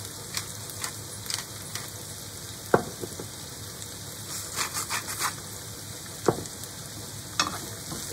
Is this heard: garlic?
yes